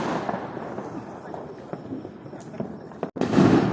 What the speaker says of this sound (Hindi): यहाँ मेरा सबसे छोटा वाला भाई मम्मी से पटाखे चलवा रहा था